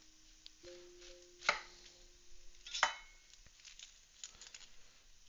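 A knife chops an onion on a board for a sandwich: a few sharp, distinct cuts spaced apart, then lighter taps, over a quiet background with a faint steady hum.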